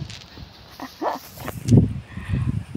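A dog on a mountain hike gives a few short barks and yips with whimpers in between, close by against outdoor background noise.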